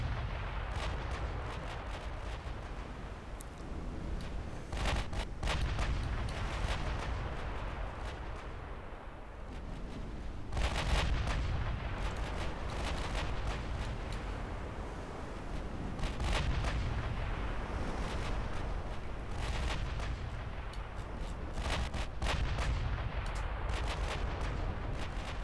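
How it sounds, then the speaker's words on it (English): Long-range heavy artillery fire in a naval fleet strategy game, a steady wash of booming shots and impacts that keeps rolling for the whole stretch, with sharper bursts around the middle. "You're just at the mercy of long-range heavy artillery."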